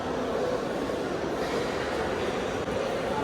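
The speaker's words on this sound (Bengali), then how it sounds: "ওইদিকে আবার একটা ট্রেন ঢুকতেছে স্টেশনে" A train pulls into a railway station on the Khulna to Dhaka route, giving a loud, steady rumbling roar of wheels and carriages that stays constant and close, with no talking.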